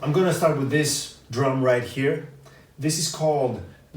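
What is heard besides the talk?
No distinct noise like a dog, phone or traffic.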